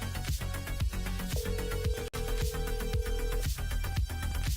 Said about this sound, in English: The lines are just ringing out for now